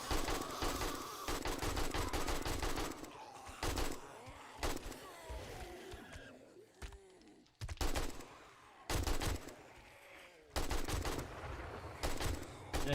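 Repeated bursts of automatic gunfire from zombie shooting in the survival game 7 Days to Die, loud rapid volleys broken by short quieter gaps, with creature noises in between and no talk.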